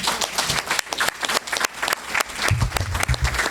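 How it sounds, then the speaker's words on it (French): An audience bursts into loud, close applause, thick overlapping clapping that keeps going the whole time, with deeper crowd noise and thumping joining in toward the end. "je voudrais qu'on applaudisse encore plus fort"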